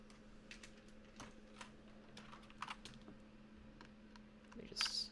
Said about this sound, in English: gonna just take out the keycaps just for right now